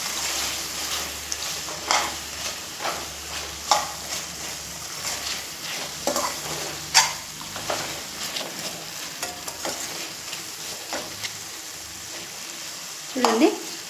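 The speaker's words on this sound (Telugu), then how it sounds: "చికెన్ అంతా వేగుతుంది కదండి" Chicken pieces and cauliflower fry in a pan with a steady hiss and sizzle, and a spoon scrapes and stirs through them now and then, close and fairly loud.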